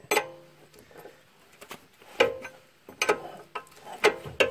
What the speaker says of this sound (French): tout simplement prendre une clé de 22. Voilà, et puis tout simplement serrer.